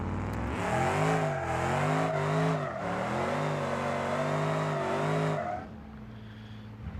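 A car engine in the driving game BeamNG.drive revs hard in repeated rising and falling surges, loud and close, then drops suddenly to a low idle near the end.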